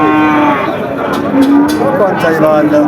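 A bull calf moos loudly and close by, a drawn-out low call over background chatter of a crowded cattle market in Bangladesh.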